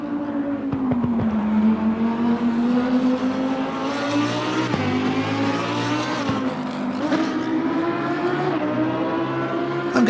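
Exterior view of a Lamborghini GT3 with a 5.2-litre Audi V10 in Assetto Corsa Competizione, a loud engine howl that revs up and down through several gear shifts over about ten seconds.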